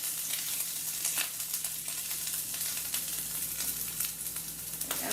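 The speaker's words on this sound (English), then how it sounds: "So we are just going to saute this for a few minutes." Green beans and other vegetables sautéing in a very hot pan, giving a steady, dense sizzle with faint crackles throughout, close and continuous with no talking.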